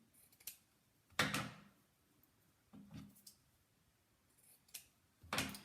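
Scissors trim material for a handmade Christmas wreath, a handful of separate crisp snips and cuts spaced irregularly, close and quiet with near silence between them.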